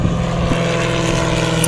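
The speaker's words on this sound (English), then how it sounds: "there's like an airplane thing like right next door." An airplane close by gives a steady, droning propeller-like engine rumble that stays constant and fairly loud throughout with no speech.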